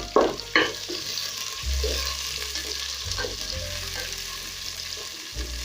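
Onions hitting hot cooking oil for pilau, a loud crackling sizzle at first that settles into a steady close frying hiss, with a few stirring knocks and no speech.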